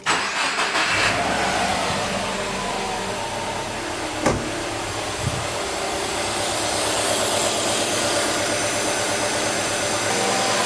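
A car engine cranking and catching after cleaner was sprayed into the intake manifold, then settling into a loud, steady running drone close by, with no talking.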